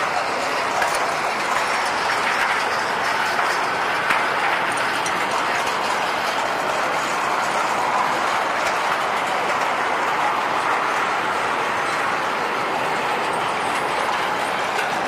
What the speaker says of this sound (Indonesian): ada lori pengangkut tebu membawa gerbong kosongan menuju kebun